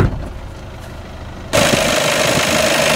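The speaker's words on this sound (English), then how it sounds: "The engine is a 2-litre TDI turbo diesel." A 2014 Škoda Octavia VRS with a 2-litre TDI turbo diesel runs after a quieter start, then bursts into a loud, steady, gritty engine clatter with a harsh knocking texture.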